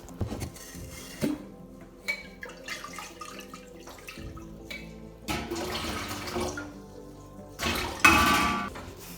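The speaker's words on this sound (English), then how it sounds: "I'm going to take my iron water solution and I'm going to add about a cup of it to the pot" An iron water solution is poured into a dye pot in uneven splashing bursts, with the flow growing fuller and louder toward the end.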